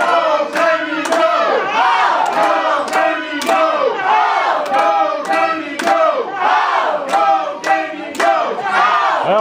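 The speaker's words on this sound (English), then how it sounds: "some people cheering for Damien, but more people cheering for Hoodrich." A wrestling crowd at a USWO indoor event cheers and chants loudly and steadily, with sharp claps and shouts rising above the continuous roar.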